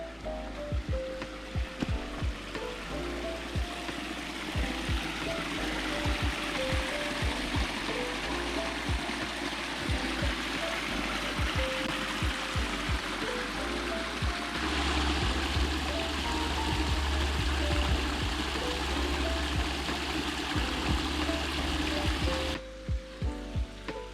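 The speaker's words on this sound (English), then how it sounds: "I guess we have to cross the river." River at Spruce Brook near Beacon Falls, Connecticut, rushing steadily and loudly throughout as hikers approach a crossing, a continuous close wash of flowing water with no voices.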